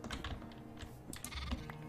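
Sheep bleating in the Minecraft video game, a few short game-sound bleats at moderate level over a steady background with clicking like keyboard typing.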